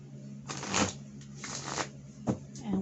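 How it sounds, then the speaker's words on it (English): Tarot cards being shuffled by hand, three or four short riffling bursts separated by brief pauses over a steady low hum, fairly close and moderately loud, with no talking. "So I am now programming the cards for"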